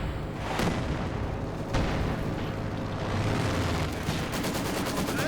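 A flak panzer fires 37mm high-explosive rounds amid a Company of Heroes 2 battle, its rapid cannon bursts and booms blending into a steady, distant-sounding roar of combat with sharper cracks near the end.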